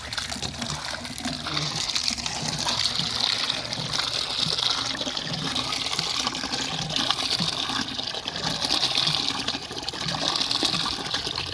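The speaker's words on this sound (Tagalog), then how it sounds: "Lalabas na yung tubig." Water gushes steadily from a pump into a trough for goats, a loud continuous splashing rush with a bright hiss that holds for the whole stretch, close by and with no one speaking.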